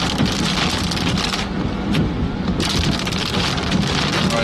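Heavy rain pours steadily during a tornado-warning thunderstorm in the Dallas–Fort Worth area, a loud, dense hiss that briefly dips and thins midway before surging back, with no voices.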